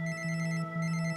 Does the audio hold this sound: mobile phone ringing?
yes